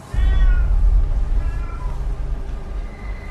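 Cat meowing several times in a row, the calls rising and falling in pitch over a low rumbling background, fairly close and loud.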